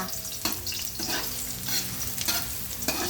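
Sliced ginger sautés in a hot pan for tinolang tahong, a continuous oily sizzle broken by periodic scraping strokes of a spatula stirring the pieces, close and fairly loud with no voices.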